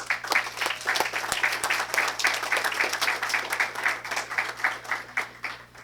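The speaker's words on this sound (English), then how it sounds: "Let's give them a big round of applause." Audience applause at a school district board meeting, a moderately loud burst of many hands clapping with a slightly uneven, pulsing rhythm that tapers toward the end.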